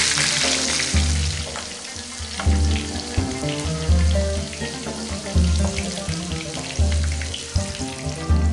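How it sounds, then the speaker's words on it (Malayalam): Capsicum shallow frying in oil in a pan, a loud, steady, close sizzle with bursts of crackling and faint tonal hum underneath, no voices. "ഇപ്പോൾ ഓയിലുള്ളത് കൊണ്ടാണ് ഞാൻ ഇതുപോലെ ഫ്രൈ ചെയ്തെടുക്കുന്നത്."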